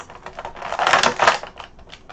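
Scratchy scraping as a knife slices through plastic toy packaging, a burst of crinkly cutting noises swelling loud in the middle then easing off, close to the microphone.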